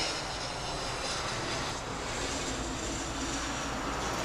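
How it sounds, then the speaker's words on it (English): A three-engine jet airliner with its motors mounted at the rear comes in to land at Grand Cayman, giving a low, steady, fairly quiet engine rumble that holds evenly throughout with no talking. "Comes in very quietly, considering it's got 3 motors there on the back."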